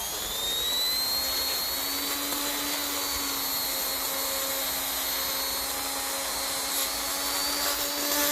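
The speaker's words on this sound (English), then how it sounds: "I'm just going to get the Dremel" A Dremel rotary tool cleaning a part from a Ferguson 35 TVO tractor, a high, steady whine with a shifting pitch that runs continuously and close.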